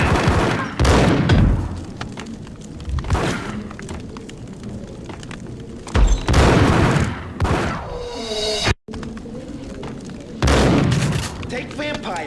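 Gunfire and heavy booms in the video game Max Payne, several loud bursts of shots and explosions with reverberant tails, close and dominant, separated by quieter stretches with game ambience.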